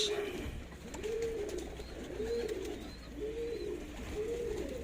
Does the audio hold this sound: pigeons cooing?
yes